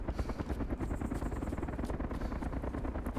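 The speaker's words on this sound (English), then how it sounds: "Sounds like two helicopters?" Helicopter rotor chopping steadily in the DayZ video game, a loud continuous rhythmic thudding with no voices over it.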